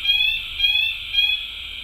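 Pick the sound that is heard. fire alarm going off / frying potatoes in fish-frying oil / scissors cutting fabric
fire alarm going off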